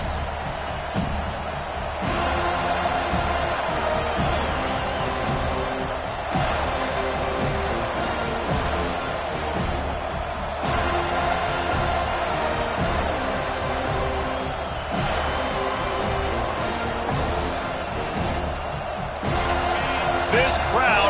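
A packed college football stadium at a Florida State vs LSU game roars with a steady, dense crowd din that never lets up, while a play-by-play commentator talks over it throughout.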